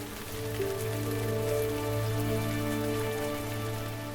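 Steady rain falls in the Teutoburg Forest of Germany, an even, dense patter continuing without pause for a few seconds, with no voices.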